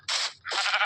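Goats bleat on a farm where cows and pigs are also kept: two loud, close bleats, each about a third of a second long, with a brief gap between them.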